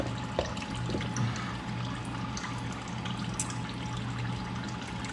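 Engine oil from a 2014 Ford Escape Titanium 2.0L draining out of the drain plug into a pan, a steady faint pouring trickle, continuous and quiet without talk.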